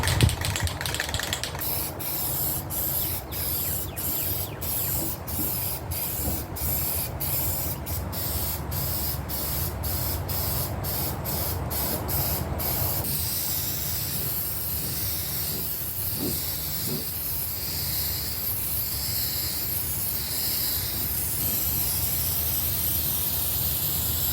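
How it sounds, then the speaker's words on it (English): Rust-Oleum red oxide metal primer hisses from a spray can onto a mower cutting deck in a series of short rhythmic bursts, then continues as a steadier, longer spray, close and loud. "I think we're ready to start priming, and we're just using Rust-Oleum's red oxide metal primer"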